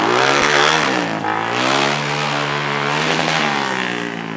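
A quad ATV engine, recently repaired and running well, revs up and down steadily and close by, its pitch rising and falling several times with no one speaking over it.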